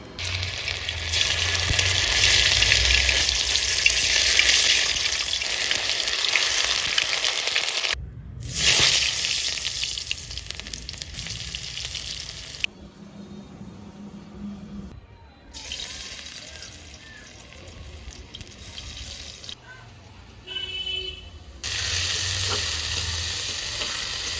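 Masala being fried and stirred in a pan during rooftop cooking, a steady loud sizzle with scraping stirs, broken by short pauses and a few quieter stretches, with no talking.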